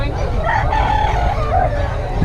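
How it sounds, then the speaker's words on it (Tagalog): A rooster crows in a long drawn-out call at a chicken seller's in Bocaue, heard close and loud over a low rumbling background. "Ang manok."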